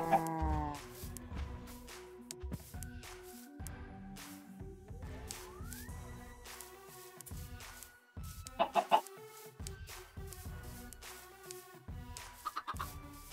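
Chickens cluck repeatedly in the video game Minecraft, with short fowl calls recurring alongside game sounds and tones, moderately loud and with no talk.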